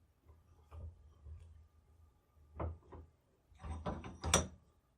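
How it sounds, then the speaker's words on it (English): A 150-year-old rusty bayonet being clamped into a vise, heard as scattered soft knocks and scrapes, then a louder cluster of metallic clunks as the jaws tighten. "I'll remove the bayonet and get it in the vise."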